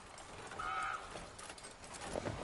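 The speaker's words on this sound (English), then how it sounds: "That horse wasn't happy." Horse in The Witcher 3 gives a short, strained whinny over a busy game soundscape, with faint hoof clatter and a brief second outburst near the end; no one speaks.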